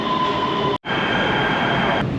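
A train in Los Angeles rumbles along with a steady, loud rolling roar and a faint high squealing tone, briefly cut by a short gap, continuous across the short stretch.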